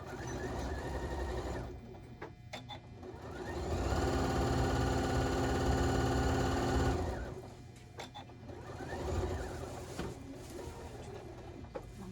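Sewing machine stitching a mitered quilt corner, its steady mechanical whir rising into two longer runs of fast stitching separated by brief pauses and clicks, close and clear with no talking.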